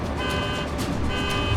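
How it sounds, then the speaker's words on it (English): A Tesla Cybertruck's car alarm blares continuously while towing an excavator, over a rumbling engine and outdoor noise, with faint periodic high-pitched pulses. "The alarm's going off."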